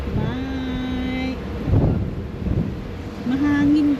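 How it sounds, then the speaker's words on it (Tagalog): Strong wind buffets a GoPro camera outdoors, roaring and thumping across the microphone in loud, rough gusts while tonal engine-like hums drift underneath. "Mahangin guys eh. Lumilipad tong GoPro ko."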